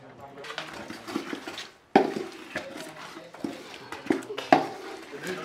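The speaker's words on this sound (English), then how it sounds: "Okay, I'll add it to it and then give it a quick stir." Blended ginger, onion and garlic stirred into a soup pot while cooking Ghanaian soup with dry fish, a metal spoon clinking and scraping against the pot in several sharp knocks over soft wet stirring and quiet background noise.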